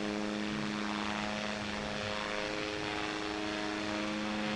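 A propeller plane engine drones in the QWOP Ez Riser flight game, a steady loud hum with a constant pitch that holds unchanged throughout.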